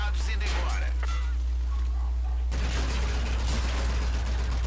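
Rapid gunfire from a Call of Duty: Infinite Warfare space combat battle, loud dense bursts filling the second half after a quieter stretch with game effects.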